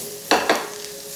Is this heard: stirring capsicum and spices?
yes